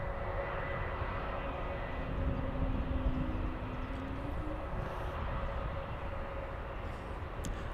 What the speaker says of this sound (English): We have Finnair A350 on final approach